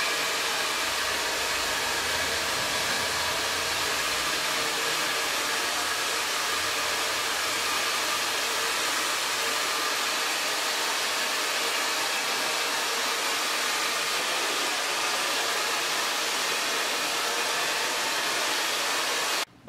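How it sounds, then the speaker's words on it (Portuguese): A hair dryer blows with a steady, loud whooshing roar that holds constant throughout and cuts off abruptly at the very end. "Em sequência, eu vou testar aqui no secador."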